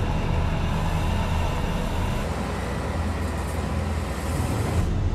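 Huge construction machine's engine roaring steadily as it drives under throttle, a dense, loud, continuous rumble close by with no break.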